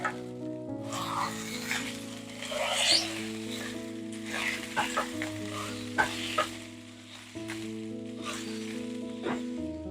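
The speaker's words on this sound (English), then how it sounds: "I'm just going to add in the ground beef. And you just want to break it up." Ground beef sizzles with softened onion in a hot pan as a utensil breaks it apart, bright frying crackle with scraping stirs over soft steady background music, no talking.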